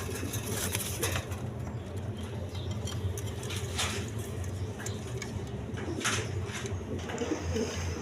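Pigeons in a farm loft, pairs kept for sale, coo softly and repeatedly over steady low background hum, with faint distant traffic and no clear talk.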